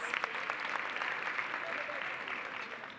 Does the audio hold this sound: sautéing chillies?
no